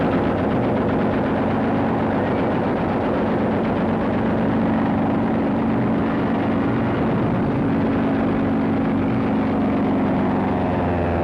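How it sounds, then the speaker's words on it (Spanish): Luftwaffe warplanes flying over Poland, a loud continuous propeller engine drone with rattling, gunfire-like bursts layered into a dense, steady roar. "los aviones de la Luftwaffe sobrevolaban Polonia"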